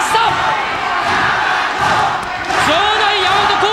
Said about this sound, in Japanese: 場内ヤマトコール大声援